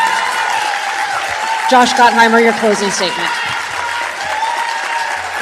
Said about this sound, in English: I've got to ask the audience to please refrain from clapping